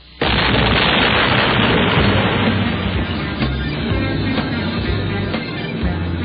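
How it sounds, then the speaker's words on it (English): A giant explosion bursting a hole through a door, a sudden loud boom that swells into a long, dense roaring rumble lasting several seconds, close and overwhelming, with no voices. "A giant explosion blew open a hole in the door"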